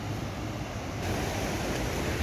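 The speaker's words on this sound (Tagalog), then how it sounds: "Kung silipin mo yung umaagos na tubig" Water rushes steadily over a mini dam, a dense, broadband whoosh with constant loudness and a slight swell partway through, heard close with no voices.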